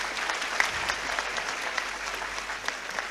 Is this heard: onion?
no